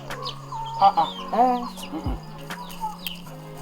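A hen clucks in short, uneven bursts close by, with faint bird chatter and a steady low hum behind it.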